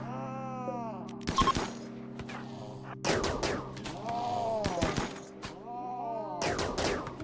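Masterwork sniper rifles fire in the colony game RimWorld. Several sharp cracks come a second or two apart, mixed with wavering, yowling animal cries.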